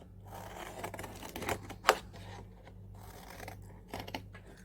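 Paper being cut to size with scissors for an art journal, a few soft close snips and rustles, one sharper cut standing out against a quiet room.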